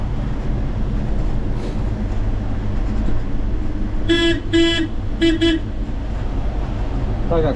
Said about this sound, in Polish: Stare klaksony.